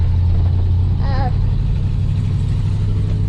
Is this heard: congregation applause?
no